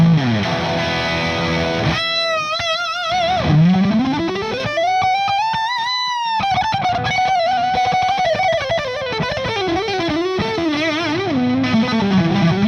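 Electric guitar driven through a VOX Ice 9 overdrive pedal, playing a sustained lead melody with bends and vibrato over chugging rhythm notes, thick and saturated with a fat low end, loud and continuous throughout.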